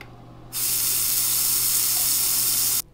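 Tap water gushes steadily into a glass for about two seconds, a loud, close hiss that starts abruptly and cuts off just as sharply, with nothing else heard.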